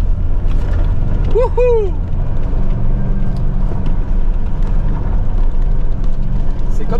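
A car drifts on loose sand in Mauritania with a loud, continuous engine roar and churning rumble, and a person whoops excitedly about a third of the way in.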